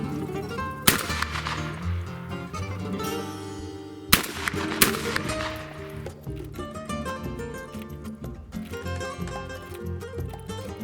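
A shotgun fires a reloaded shotshell in two sharp, loud blasts a few seconds apart, each with a ringing echo, over a busy background of layered tonal noise.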